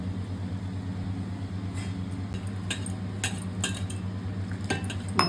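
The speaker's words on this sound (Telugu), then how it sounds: "ఇప్పుడు పిండి కలుపుకుందామండి" Gram flour batter for brinjal, snake gourd and capsicum bajjis being mixed in a bowl, a few clinks and scrapes of a utensil over a steady low background hum, close and moderate.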